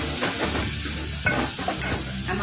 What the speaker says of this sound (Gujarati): હવે એને હલાવી દેવાનું